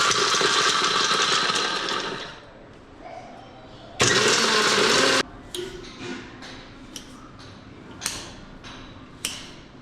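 A mixer grinder whirring almonds in loud bursts: a long roaring run, a pause, then a shorter burst, followed by a few sharp knocks and ticks in the quiet between.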